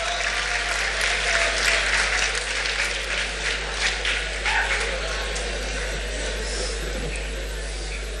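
Audience applauding the jury of a school English song festival in a hall, steady clapping throughout with a few whistles and voices mixed in, holding fairly even before easing slightly toward the end.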